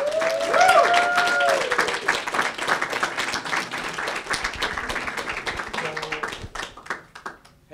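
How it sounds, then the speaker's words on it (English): An audience at a workshop in Albany, New York applauds the presenters with dense, loud clapping that swells at first, then thins and fades out toward the end, with a few whoops over the top. "Please go ahead and put your hands together for our presenters today, Hex Lion and Maddie All In."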